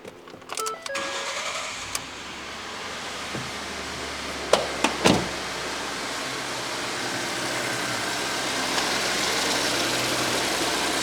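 A car engine after valve cover and spark plug replacement, with a few clicks and knocks, then the starter catches and the engine settles into a steady, even idle that holds to the end, close by without talk.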